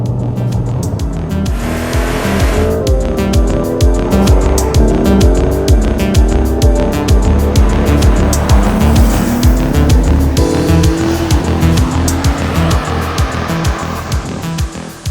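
A Porsche 992.2 GTS Cabriolet hybrid 911 accelerates hard from inside, the engine note climbing loudly through the gears with brief dips at each shift, rising and falling again for several seconds.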